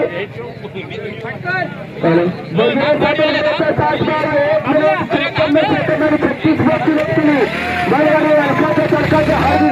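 Bullock carts racing at a state-level bullock cart race in Sindhudurg, with a dense, loud roar of crowd noise and a commentator talking over it throughout.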